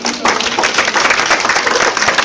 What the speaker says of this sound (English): So, guys, you get my applause.